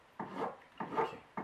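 Hand file rasping across carving wax for a jewelry ring, three short push strokes in an even rhythm, close and faint with quiet gaps between.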